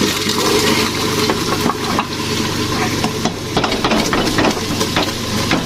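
Chickpeas stirred and fried with spices in a pan for Lahori chole, a steady loud sizzle with repeated scraping and clacking of a spoon throughout.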